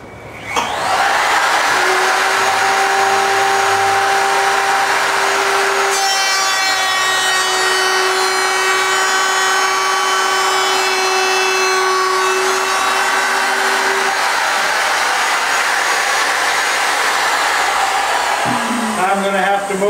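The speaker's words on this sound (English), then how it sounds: "The bearing will ride against the pattern and it'll cut a nice straight edge across." A router with a pattern bearing bit trims the straight edge of an antique oak table top, a loud, sustained high-pitched whine with a grinding cutting tone that shifts midway, running continuously close up before winding down at the end.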